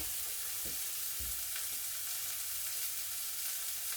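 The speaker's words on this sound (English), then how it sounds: "we're just going to put them on top of the cooker and just let it smoke a bit" Aubergines sizzling as they char directly on top of a cooker, a steady close frying hiss that runs throughout with a few soft knocks and shifts.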